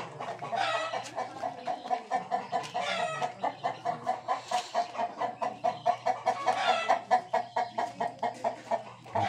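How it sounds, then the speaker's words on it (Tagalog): Farm chickens cluck in a steady, repeating rhythm, with a rooster crowing now and then, close and fairly loud across the whole stretch over a low constant hum. "Mga manok."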